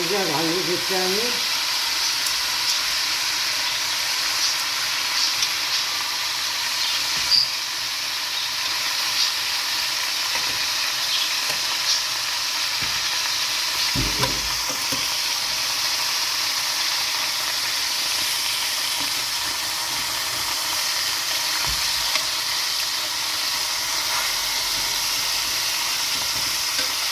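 Chicken pieces fry in a pot with two spoonfuls of corn oil for Palestinian maftoul, giving a steady, close sizzle and hiss throughout, with a few brief stirring and turning clatters as the pieces are flipped.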